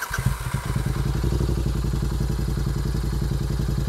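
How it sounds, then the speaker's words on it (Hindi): A 650 twin GT motorcycle fitted with a Moto Torque exhaust idles close by, giving a steady, even, rapid burble of exhaust pulses with no talking. "अपना जीटी जिसमें मोटर टॉर्क लगा है तो सबसे पहले इसको दिखाते हैं भी आइडल पे कैसा आता है"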